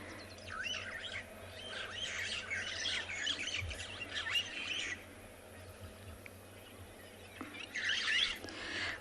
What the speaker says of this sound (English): The starlings are very active around Chitwa Dam.